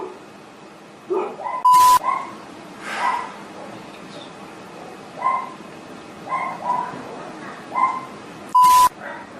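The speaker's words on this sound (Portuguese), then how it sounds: "Tinha que começar a latir uma cadela bem nesse momento." A female dog barks in scattered short bursts at a moderate distance, with a couple of sharp loud knocks and faint background noise.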